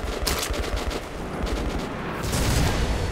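Gunfire in the video game Metro Last Light, a dense, continuous automatic rattle of rapid shots that stays loud and close for about three seconds with no pauses.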